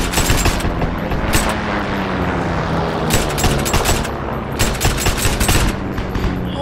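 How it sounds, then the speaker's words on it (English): Bursts of machine gun fire in the multiplayer shooter Heroes and Generals, several rapid volleys separated by short pauses over a dense backdrop of battle noise and booms, loud and close, with no talk. "it's a guy with, like, a really good machine gun"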